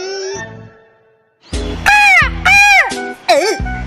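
Cartoon crow cawing: after a short tone, three loud, harsh, drawn-out caws follow one another closely, with a shorter squawk at the end.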